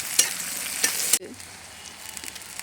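Chopped onion and green chili hit hot oil in a pan with a loud, close sizzle punctuated by a few sharp crackles. The sizzle then suddenly drops to a quieter, steady frying hiss.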